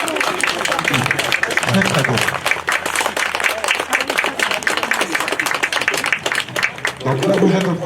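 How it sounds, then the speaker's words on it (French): Sustained audience applause at a canine carriage driving competition, a Grand Prix de France event, with steady dense clapping throughout and a voice speaking briefly over it. "Bravo, vous pouvez les applaudir."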